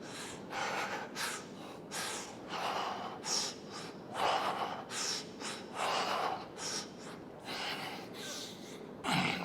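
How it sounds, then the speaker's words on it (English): Heavy, rhythmic breathing after a set of dips in a home upper-body and core workout: a steady series of loud, close gasping inhales and snorting exhales, with no talking. "Pay attention to my breathing too."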